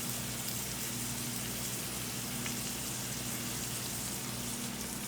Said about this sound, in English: So we're gonna let those saute really nicely.